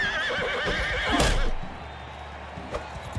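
A horse neighs loudly in the Mount & Blade 2 Bannerlord game, a single whinny cutting through a busy battle soundscape with hoof clip-clops and clatter around it.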